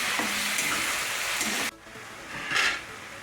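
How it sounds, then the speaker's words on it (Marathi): Chili garlic paste sizzles and sputters in a hot pan for radish bhaji, a steady crackling fry that turns quieter partway through, with a brief stirring scrape after that. "आता याला 1-2 मिनिटं परतून घेते।"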